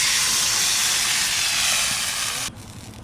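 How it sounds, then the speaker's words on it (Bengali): Water poured into a hot pan of fish curry in a village kitchen gives a loud, steady steam hiss that fills the whole stretch, then drops sharply to a quieter sizzle near the end, with no voices. "কষানো হয়ে গেছে, এবার জল দিয়ে দেবো।"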